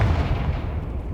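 Confringo blast spell cast in Hogwarts Legacy, a dense, loud, rumbling explosive burst with heavy low-end boom sustained across a short moment, no voices over it.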